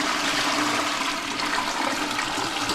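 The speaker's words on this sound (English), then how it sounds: "the best thing is this toilet, the way that it flushes" A hotel toilet flushes with a loud, steady rush of water that runs nearby for the whole stretch, with no talk over it.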